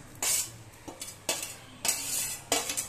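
A spoon stirring turmeric milk in a pan as it heats toward a boil, a few short scraping clinks and swishes against the vessel spaced across the clip, soft and close with no talk.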